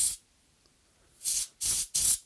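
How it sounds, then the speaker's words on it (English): Compressed air sprayed into a Commodore 1351 mouse, one brief hiss at the start, then a pause and three loud close bursts in quick succession. "It's of course difficult to get in there, so I'm going to use compressed air"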